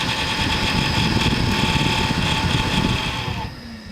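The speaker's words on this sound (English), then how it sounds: "The bearings in this power supply's fan are dying." An ATX computer power supply fan with dying bearings gives a loud, steady rattling whir with a rough grinding hum, close by, fading slightly at the end.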